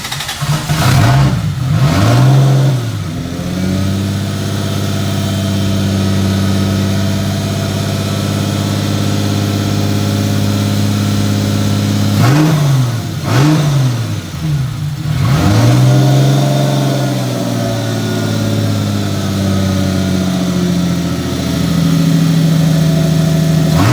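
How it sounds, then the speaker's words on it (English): A Toyota 2JZ-GTE turbocharged engine runs with its turbo spooling, close and loud: a steady idle broken by several sharp revs that rise and fall, the turbine whine carried through the exhaust. "You can hear the turbine spooling through the exhaust."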